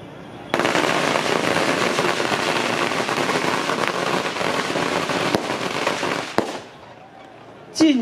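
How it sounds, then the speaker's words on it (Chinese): Firecrackers go off at a temple ceremony at Qing'an Temple in Xigang, a loud, dense crackling barrage lasting about six seconds before cutting off abruptly, followed by a brief quieter pop. "鞭炮。"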